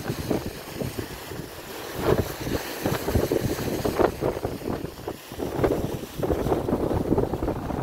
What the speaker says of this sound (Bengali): আর সেই সঙ্গে ঢেউয়ের প্রচণ্ড গর্জন